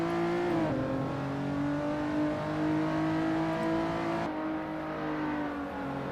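A race car in a racing video game lapping Silverstone Circuit, its engine droning loud and steady near the pit straight, pitch holding then dropping with a gear change partway through.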